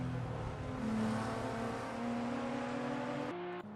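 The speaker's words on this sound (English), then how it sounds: "we can listen to the beautiful sounds of the 2JZ engine" Toyota Supra with a 2JZ engine racing at Grobnik in a video game, a steady loud engine drone holding a sustained pitch before shifting down near the end, with no talk.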